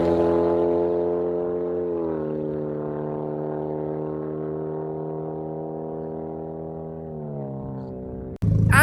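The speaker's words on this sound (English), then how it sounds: "number 7 is the exhaust. This thing for a 4-cylinder sounds pretty damn good" Steady, loud exhaust drone from a Hyundai Genesis Coupe with a 4-cylinder engine, holding near-constant revs for about seven seconds, then rising briefly before a sharp cut and a sudden burst at the end.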